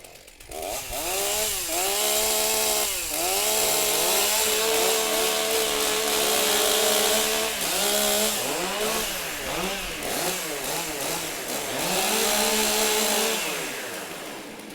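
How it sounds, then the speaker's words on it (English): Several chainsaws rev and warm up before a STIHL Timbersports Champions Trophy heat in Geelong, loud overlapping engine whines rising and falling in repeated throttle blips, near and continuous. "Warm up your saws."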